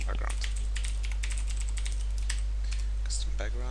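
Rapid, uneven clicking of keys on a computer keyboard as code is typed, steady and close over a constant low electrical hum, with a brief voice near the end.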